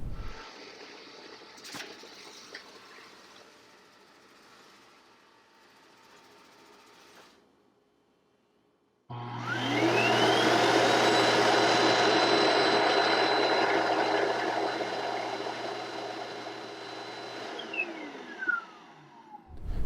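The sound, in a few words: robot vacuum base emptying dust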